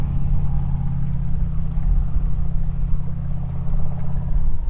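A loud truck rumbles close by at a lakeside campground park, its deep engine drone steady and heavy for several seconds with no talking over it.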